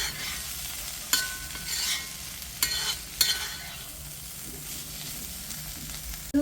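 Broccoli and potato fry in a pan while pepper powder is stirred in, with steady sizzling and a few sharp utensil scrapes and clinks, close by and without speech.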